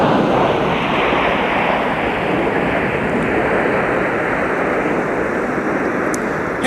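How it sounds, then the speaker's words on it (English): A Boeing 757-300 airliner taxiing at MSP airport in winter makes a steady, loud, broadband jet roar and rumble that holds constant throughout. "It's 757-300, now taxiing on Whiskey, the Flying Pencil."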